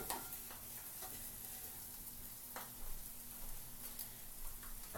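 A quesadilla with meat cooks in a pan, giving a faint, steady sizzle and crackle with a few light ticks, heard at a distance.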